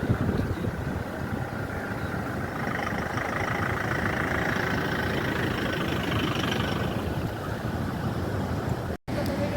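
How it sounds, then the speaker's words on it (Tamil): Rough sea surf crashes and roars steadily on a beach beside a taxi stand and parking area, a loud continuous wash of breaking waves with some wind, ending in a brief cut. "கடல் நல்ல ஆக்ரோஷமாக இருக்குது பாருங்கள்."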